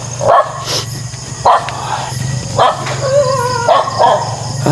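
Dogs bark loudly and close by in a series of sharp barks with whimpery yips between them, repeating roughly every second over steady background hum.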